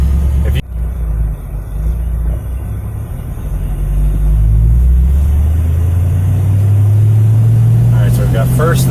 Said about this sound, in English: We're going to drive down the road here and just kind of pop the e-brake, show you how this thing works getting it through the gears.